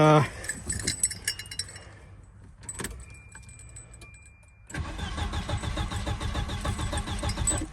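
A 1990 Volvo 740 turbo wagon with a faulty fuel pump, keys jangling first, then the starter cranks the engine in a fast steady rhythm without it catching, loud and close.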